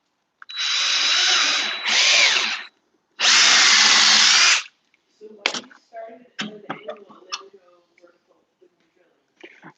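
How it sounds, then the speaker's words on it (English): A handheld drill bores a hole in a craft piece, with two loud, sustained whirring bursts close up, the second one longer, followed by light clicks, taps and handling noises as a person talks. "So I'll just drill one more hole here."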